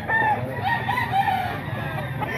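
Roosters crow repeatedly over a busy chicken market, several overlapping cock-a-doodle-doos rising above clucking fowl and a constant crowd murmur.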